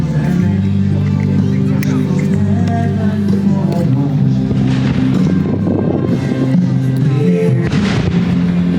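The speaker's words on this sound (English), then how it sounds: "what sounds like gunshots in the teepee" Gunshot-like booms sound at an American-themed festival in the Czech Republic, a few sharp reports rising over steady crowd babble and loud outdoor noise, with people talking nearby.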